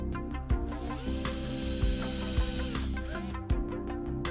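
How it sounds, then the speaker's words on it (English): Drill bit boring a center hole in wood, a continuous whirring grind with a few sharp knocks and surges as the bit bites, loud and close with no talk. "Drill a center hole with this drill bit."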